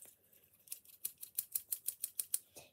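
Scissors snip about a dozen times in a quick, even rhythm, with crisp metallic cuts heard close and alone.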